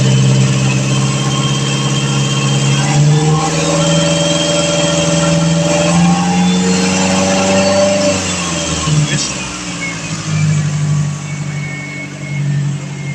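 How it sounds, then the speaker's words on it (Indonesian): Car engine running steadily during a periodic service inspection on a workshop lift, a continuous mid-pitched hum with slight rises and dips in revs, with speech over it throughout. "Selanjutnya kita periksa bunyi-bunyi abnormal pada mesin."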